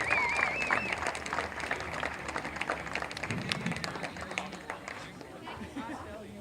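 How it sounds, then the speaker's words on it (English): Crowd clapping at a high school baseball field for recognized alumni, moderate and fairly distant, with a voice over a loudspeaker at the start and chatter mixed in. "Another round of applause for our baseball alumnus."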